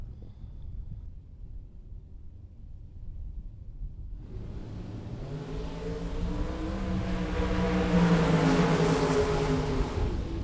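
A drag race car in the burnout box at a bracket race in Las Vegas builds from quiet into a rising, roaring engine drone with tire noise that grows louder and stays sustained to the end.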